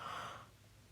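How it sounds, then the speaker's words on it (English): A single breathy morning yawn, a soft drawn-out exhale that fades over about half a second into quiet room tone, close to the microphone with no talking. "Sorry for my yawns."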